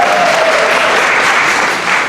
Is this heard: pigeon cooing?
no